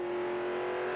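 Race car engine at full roar during a 1995 Busch Grand National race at Richmond, with the Pearson family team's car running nearby; a loud, steady, high-pitched drone that fills the whole second without a break.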